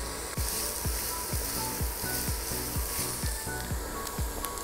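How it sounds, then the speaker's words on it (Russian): Onion sizzles steadily in hot vegetable oil in a frying pan, a loud continuous crackle with a regular scraping stir rhythm repeating about twice a second, no voices. "Отправляем лук на сковородку и обжариваем до прозрачной мягкости."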